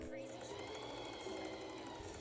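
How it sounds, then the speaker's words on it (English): A sewing machine stitches a thrifted dress at a steady rapid mechanical rhythm, heard close with a constant whirring buzz and no pauses. "I just wanted to play around with the sewing machine"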